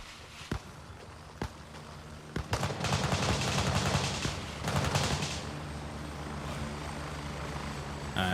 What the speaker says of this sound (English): That is an enemy chopper landing though